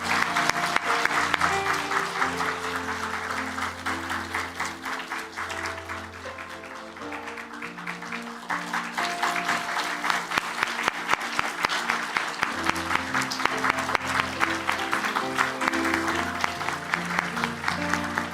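During a Korean church's Sunday worship service, the congregation claps for a long stretch. The applause is steady and sustained, with an organ or keyboard playing sustained chords underneath, and the clapping grows slightly stronger toward the end.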